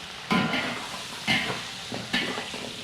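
Pork ribs sizzle in a wok with oil, dried Sichuan peppercorns and chilies, with three bursts of loud frying as they are stirred, close and continuous between bursts.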